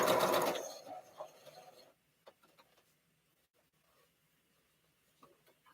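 A sewing machine stitching a three-yard quilt whirs loudly in a short burst at the start, then stops, leaving faint scattered clicks and small handling noises in a quiet room.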